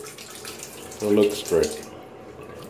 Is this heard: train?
no